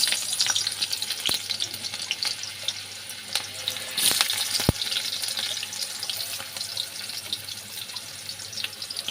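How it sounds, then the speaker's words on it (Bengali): Onions hit hot oil in a wok, a dense continuous sizzle and crackle with occasional sharp clicks of a spoon against the pan, close and steady throughout. "দেখো আমি কড়াইতে তেল দিয়ে দিয়েছি, এটা গরম হয়ে গেছে। আমি দিয়ে দেবো পেঁয়াজ,"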